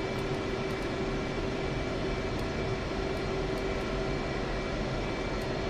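Fighter jet engine in a flight simulator game, an F/A-18 Hornet spooling up on the runway with brakes held, giving a steady, dense roar with a sustained tonal hum throughout and no talk.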